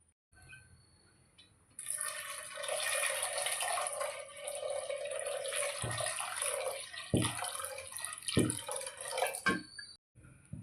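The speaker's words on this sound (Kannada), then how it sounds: "ಇದನ್ನು ವಾಶ್ ಮಾಡಿ ಬೇಯೋದಕ್ಕಿಡೋಣ." Toor dal lentils being washed in a bowl of water, with steady running and splashing water, a few louder sloshes and drips near the end, close and alone with no talk.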